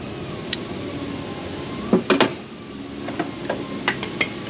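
A few sharp metallic knocks from hammering a fuel injector into its seat on a Duramax 6.6 diesel engine, clustered near the middle, then lighter scattered taps, close by against a quiet background.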